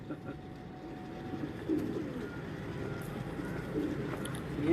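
Pigeons coo softly and repeatedly in a bird loft, low rounded calls under a faint murmur of background voices.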